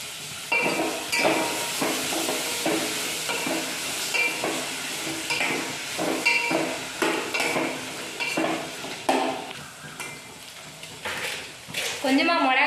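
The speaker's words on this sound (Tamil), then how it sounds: "கொஞ்சமாக மிளகாய் பொடி போட்டு கலந்துக்கலாம்." Boiled cluster beans with a little chilli powder stirred in a pan, a steady run of scraping, clinking spoon strokes over a soft sizzle, close and fairly loud, with a voice speaking over it.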